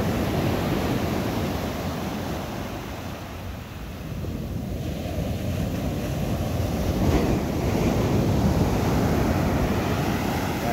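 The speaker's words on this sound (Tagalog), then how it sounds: "Oh, malalaki ng alon." Large ocean waves crash and surge continuously, a loud broad roar of surf with wind buffeting the microphone.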